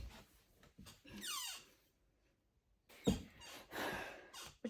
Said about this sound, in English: Stop squeaking.